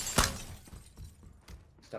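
Glass window breaks in PUBG gameplay, one sharp crash near the start, followed by faint thuds and quiet background.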